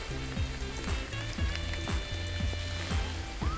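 Steady rain falls on a farm with horses, a dense, even patter running throughout at moderate loudness, with low tonal hum and scattered knocks underneath and no talking.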